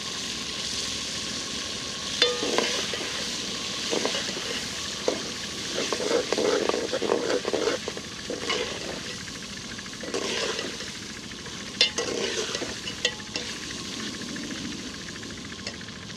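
Finely chopped tomatoes fry with onions in a pan, a continuous moderate sizzle broken by scrapes and clinks of stirring at irregular intervals.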